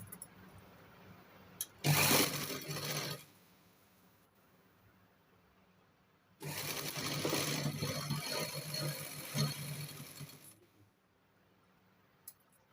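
A sewing machine stitches a layered lining and border for a pleated hand design in two bursts, a short one and then a longer whirring run of about four seconds, close and fairly loud, with quiet pauses between.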